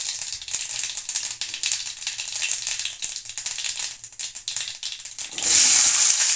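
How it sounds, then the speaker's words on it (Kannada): Onion and curry leaves frying in hot oil, with a steady crackling sizzle and scattered sharp pops, growing into a louder, denser hiss near the end. "ಈರುಳ್ಳಿ ಮತ್ತು 1-2 ಸ್ಪೂನ್ ಕರಿಬೇವು ಹಾಕ್ತಿದ್ದೀನಿ. ಕರಿಬೇವು ಹಾಕ್ಬಿಟ್ಟು ಚೆನ್ನಾಗಿ ಫ್ರೈ ಮಾಡೋಣ."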